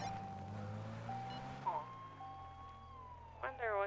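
Police car sirens wail and sweep in pitch inside a GTA roleplay game, sounding faint and distant under a low engine drone, with a rising yelp near the end.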